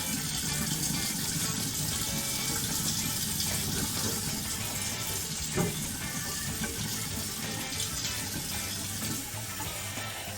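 Tap water runs steadily into two jars at a kitchen sink, a continuous close rushing pour with no talk over it.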